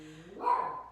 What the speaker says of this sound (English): Sorry about my dog. The UPS man is here.